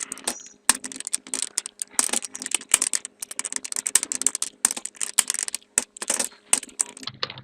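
Someone types C++ code on a computer keyboard at close range. The key clicks come in quick, irregular bursts with short pauses, and a few heavier keystrokes stand out from the steady patter.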